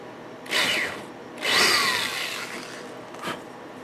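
Power drill recesses a washer hole for a rifle sling swivel stud on a Remington 7400, with two short whining bursts of the bit grinding into the stock, close up, followed by a brief faint touch.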